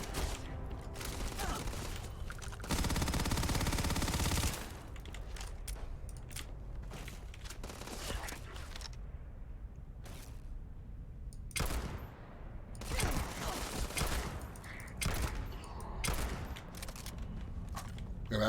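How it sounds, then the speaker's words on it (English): Gunfire from shooting out of a ship in the video game Starfield, with a long heavy burst early on and then scattered sharp shots, clanks and mechanical thumps spread irregularly through the stretch. "now I'm shooting my way out of this ship"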